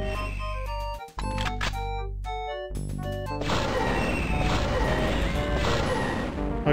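Enemy death sound in the remastered Star Wars: Dark Forces shooter game, a short crashing burst that swells into dense noisy clatter within the game's ongoing music and effects, with no talk.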